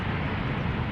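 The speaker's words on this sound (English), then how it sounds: "Did they accidentally switch on the reversers there?" Aeromexico airliner deploying thrust reversers on the Polderbaan runway at Schiphol, a steady broadband roar with deep rumble, loud and constant, no pauses.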